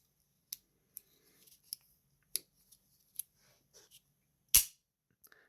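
A CRKT Orca assisted-opening folding knife with a G10 backspacer and top flipper: a few small dry clicks and ticks, then one loud, sharp snap as the blade springs open, close up with no voices.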